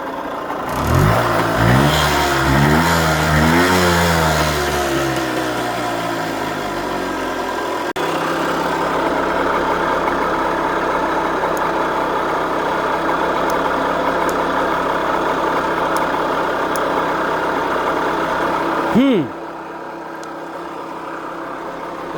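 An old Suzuki TF185 motorcycle with oil pump trouble runs sluggishly, revving up and down a few times before settling into a steady, loud, slightly uneven idle.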